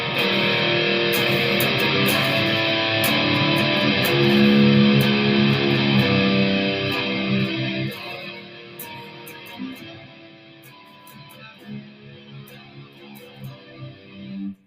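Heavily distorted electric guitar chords ring out loudly, then thin and fade into quieter, choppier strums toward the end.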